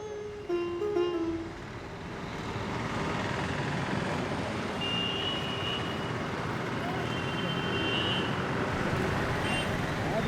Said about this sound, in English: its narrow, noisy streets swarming with rickshaws, bikes, motorcycles, and cars